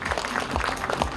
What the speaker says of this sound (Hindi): एक बार जोरदार तालियां चाहिए